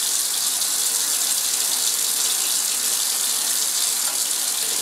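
Iodine and water mixture poured from a laboratory beaker through a filter, a steady, close, continuous splashing gush of liquid with no break and no talking.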